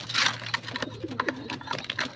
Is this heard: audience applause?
no